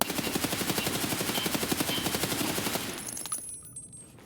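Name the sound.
RPK light machine gun firing in Escape From Tarkov video game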